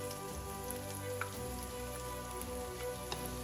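Pakoras fry in hot oil for a Punjabi kadhi, giving off a soft, steady sizzle with small scattered pops and crackles, faint and without talk.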